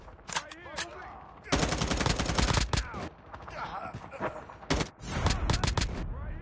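Bursts of automatic fire from an AGR 566 gun in COD Mobile, rapid close volleys in several clusters separated by short gaps, with game voice callouts between the bursts.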